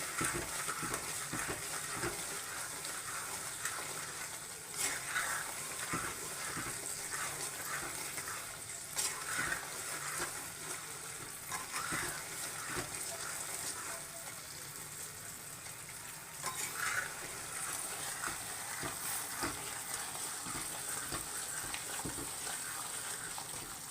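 Spice mix being stirred little by little into kul (jujube) pickle, giving soft, wet mixing and squelching sounds with occasional light scrapes. Close, quiet and continuous, with no speech.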